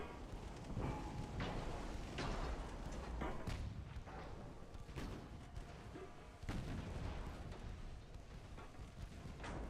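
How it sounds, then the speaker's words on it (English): Naval gun flashes boom repeatedly in Ultimate Admiral: Dreadnoughts, a dense barrage of loud, rumbling shots that overlap one another with no break, heavy and continuous like distant artillery. "The flash fires are so loud, they just drown out everything else, and you can hear them from the other side of the map"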